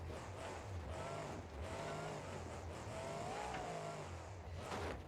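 Supercharged Chevy monster truck engine of over 2,300 horsepower with a 971 supercharger in BeamNG.Drive Monster Jam, roaring steadily with rising and falling revs, loud and sustained without pause.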